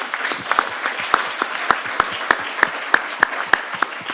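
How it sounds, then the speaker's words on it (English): Audience applause for speakers at a conference session on trade data, with sparse, distinct claps from a small crowd ringing out at a steady uneven rhythm, fairly close and clear with no voices over it. "Can I have an applause for our first speakers?"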